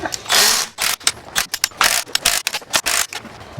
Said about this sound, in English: So we're just gonna loosen all these rockers because obviously this thing's got to come apart.